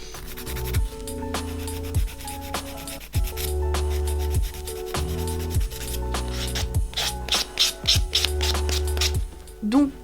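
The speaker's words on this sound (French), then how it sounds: "Maintenant je vais vite fait limer avec une lime pour continuer à enlever la couleur" Acrylic fingernails being filed with a hand nail file to strip off colour, giving repeated rasping strokes in a steady rhythm up close, with a faint hum underneath.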